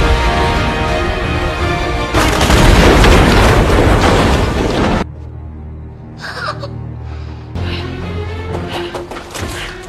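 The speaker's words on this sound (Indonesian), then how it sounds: "Terjadi baku tembak yang membuat Fitzroy mengalami luka parah" Gunfire and explosions from a shootout scene in the 2022 action film The Gray Man: a loud, dense roar of blasts and crackling fire, then a sudden drop to quieter rumbling with a few sharp bursts.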